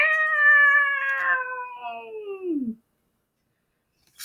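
A human voice imitates a cat's drawn-out caterwaul, one long wavering yowl that slides downward for nearly three seconds, then stops into silence.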